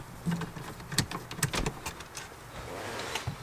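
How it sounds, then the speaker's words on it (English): Phillips head screws are backed out of a BMW X3 radio with scattered small clicks, scrapes and rattles of the tool and metal. The sounds come in uneven bursts at fairly low volume. "we got 2 more Phillips head screws right here for the radio as well"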